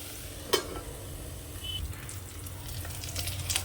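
Ponnaganti greens (dwarf copperleaf) sizzle and crackle in a hot pan as a utensil stirs them, with a sharp scrape or clink near the start and soft frying underneath.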